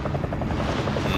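A helicopter in Call of Duty Warzone gives off a loud, steady rotor chop with rapid, even blade thumps, heard close up.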